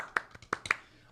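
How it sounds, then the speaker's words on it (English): A handful of soft, isolated claps from a person in a broadcast booth make a quiet golf clap, a few light slaps spaced unevenly over about a second. "Golf clap."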